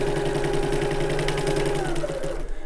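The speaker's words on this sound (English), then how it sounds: "So I'm just going to sew along that bottom edge using our regular seam allowance, regular stitch length, back stitch at the start and the end." A sewing machine stitches along the bottom edge of fabric for a wallet, a fast, steady mechanical whir with a rapid needle rhythm, close and loud, slowing and stopping near the end.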